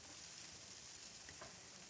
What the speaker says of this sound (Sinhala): තෙල් මේස හැඳි දෙකක් විතර දාලා රත් වුණාට පස්සේ මම දැන් සොසේජස් ටික දා ගන්නවා.